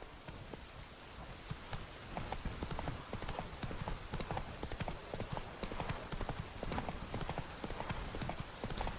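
Horse hooves clip-clop steadily while riding in The Witcher 3 Wild Hunt, a quick continuous trot over rocky ground with a soft rain-like hiss underneath, close and fairly quiet.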